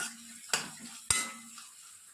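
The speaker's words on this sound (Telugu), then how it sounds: "ఆనియన్స్ కొద్దిగా వేగుతూనే నేను కట్ చేసి పెట్టుకున్నటువంటి 4 పచ్చిమిర్చిని వేసి ఫ్రై చేసుకుంటున్నాను" Onions and green chillies fry in a pan for mushroom masala curry, giving a soft sizzle broken by two sharp spatula clacks against the pan.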